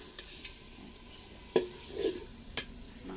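Spices frying and being stirred in a pot while preparing a beef roast, with soft sizzling under a few scraping stirring strokes and light clinks of a utensil against the pot.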